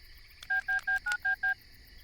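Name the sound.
telephone number being dialed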